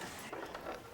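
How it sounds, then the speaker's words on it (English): Pigs grunting and oinking close by in a short, busy burst of snorts and squeals. "Pigs!"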